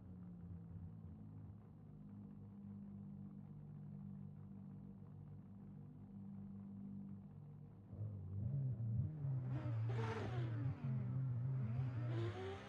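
Two drift car engines, a BMW E36 and a Mazda RX-7 in Assetto Corsa, idle with a steady low rumble at the start line, then rev up loudly with rising and falling whines over the last few seconds.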